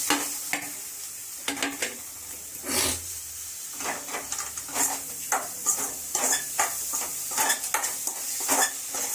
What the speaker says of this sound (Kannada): ಎಲ್ಲ ಚೆನ್ನಾಗಿ ಫ್ರೈ ಮಾಡ್ಕೊಂಡು